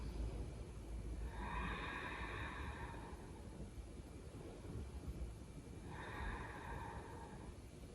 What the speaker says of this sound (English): take 3 nice breaths here